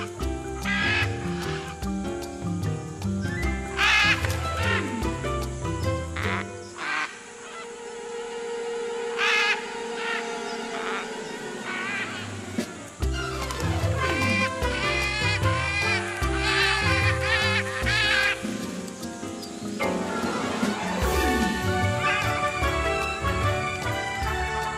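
Wild macaws in Costa Rica's Almendro forest region give harsh, raucous calls, repeated many times near and far, layered over music.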